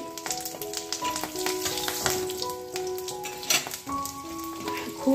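Panch phoron, cumin and a chilli crackle and sizzle steadily in hot oil in a home kitchen, a continuous frying hiss with small pops under soft background music.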